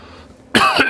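A single loud, rough cough bursts out close up after a moment of near silence.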